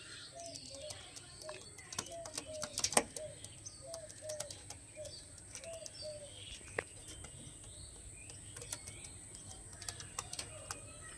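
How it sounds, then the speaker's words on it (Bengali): Kalshira and Phulshira pigeons coo in soft, repeated low calls at a loft of eight large breeding birds, with scattered sharp taps, wing flicks and clicks around them, fairly faint and close. "সব big big pair, top top quality পায়রা।"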